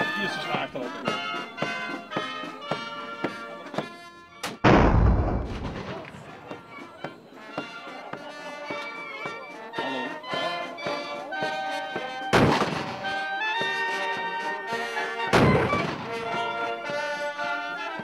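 Cannon fire booms out three times, loud and close, cutting through continuous tonal music that plays throughout.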